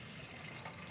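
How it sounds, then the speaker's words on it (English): Water running from a tap to fill a container, a soft, steady hiss and splash heard briefly on its own. "I'm filling up water in case we need some more."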